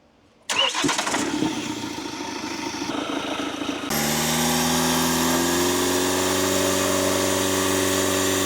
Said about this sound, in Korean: 자, 시동 걸어줘. 2000rpm입니다.